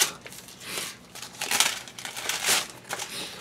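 A paper mail envelope handled up close, giving repeated crinkling and crumpling rustles in uneven bursts, with no voices.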